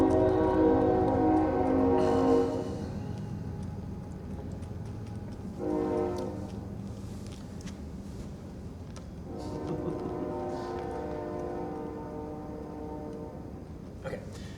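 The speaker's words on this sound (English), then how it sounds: "take a drink and wait for the train to go by" Train passing by outside an indoor session, its horn sounding in three long blasts spaced across the clip over a continuous low rumble of rolling wheels, moderately distant.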